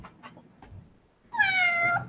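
A pet cat gives one clear, drawn-out meow close by after a few faint soft knocks and rustles, with no talking over it.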